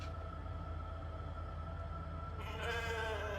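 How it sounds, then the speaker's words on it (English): A sheep bleats in the video game The Alters, a held, wavering call over a steady low mechanical hum, swelling louder near the end. "Sheep."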